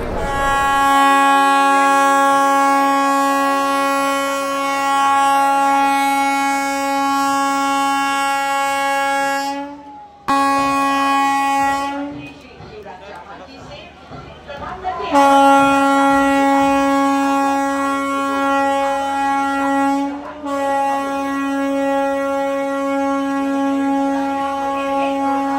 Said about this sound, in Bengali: কিন্তু ঠিক 11টা বাজে ট্রেন ছেড়ে দিয়েছে।